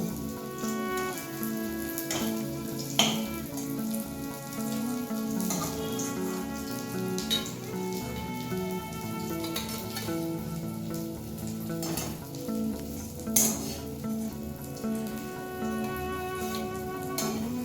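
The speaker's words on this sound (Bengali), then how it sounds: "দেখুন পাতাগুলো ঠিক এই রকম ভাজাটা হবে।" Ash gourd leaves fry in hot oil in a pan, a continuous crackling sizzle with scattered sharper pops and occasional stirring clinks, close and steady with no talk.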